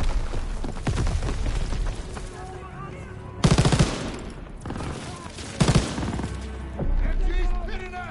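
Machine gun fire during a beach assault in the Call of Duty WWII video game: dense rattling bursts with two sharp, louder volleys among continuous battle noise and shouting voices.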